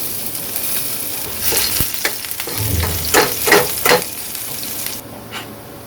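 Roughly chopped garlic, about four cloves, sizzles in hot oil in a pan nearby, with repeated scraping stirs. The sizzle crackles and swells with each stir, then eases off at the end.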